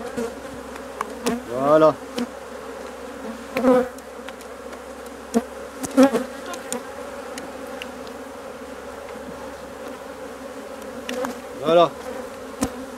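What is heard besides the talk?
honey bees buzzing at an open beehive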